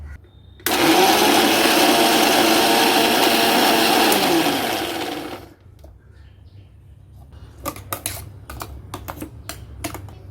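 A kitchen mixer grinder blending garlic chutney roars loudly for about five seconds, then winds down, followed by a quiet pause and a run of sharp clicks and taps.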